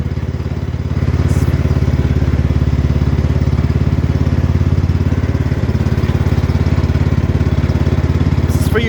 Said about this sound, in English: We're driving the tractor down the legal street right now.